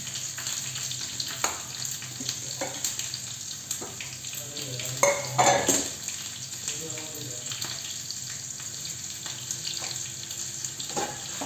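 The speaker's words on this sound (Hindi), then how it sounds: "तड़का दे रहे हैं।" Cumin, garlic and chili sizzle and crackle in hot oil with a soft steady hiss, a louder burst of spattering midway, then settling back to a gentle fizz.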